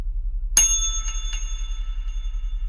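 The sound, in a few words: a real bell being rung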